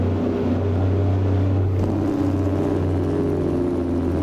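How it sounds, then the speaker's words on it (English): A Peterbilt 368 truck engine in American Truck Simulator drones steadily, a low, even rumble holding at constant loudness with no pauses. "The engine sounds pretty damn good today."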